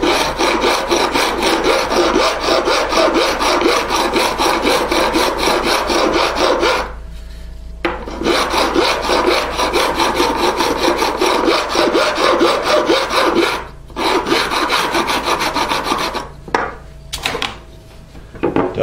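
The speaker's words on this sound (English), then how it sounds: "where you'll see these in action, trimming off the fret ends." Fret ends on a 78 Martin series custom electric guitar build are trimmed with a fret cutting tool, giving a loud, continuous rasping and scraping that stops briefly a few times, close up with no talk.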